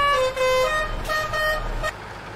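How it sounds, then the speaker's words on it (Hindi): A Tata truck horn blares in a driving video game, a loud, steady multi-tone honk held for nearly two seconds before cutting off, leaving a low engine hum. "ये हॉर्न किसने किसने सुना हुआ है असली रोड पे"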